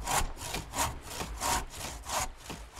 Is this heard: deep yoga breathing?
no